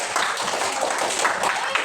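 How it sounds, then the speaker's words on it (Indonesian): A group of students clap their hands together in a classroom during an Islamic religious education lesson in Palu. The clapping is dense and steady throughout, with voices mixed in. "Kita tepuk tangan untuk hari ini untuk kita semua."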